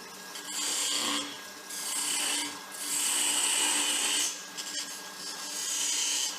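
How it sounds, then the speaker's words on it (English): A 10mm spindle gouge cuts a spinning wooden workpiece on a lathe while a hollow spiral finial is turned, giving repeated bursts of rough, hissing scraping that stop briefly between passes, close and fairly loud with no talk. "a spindle gouge, 10mm spindle gouge."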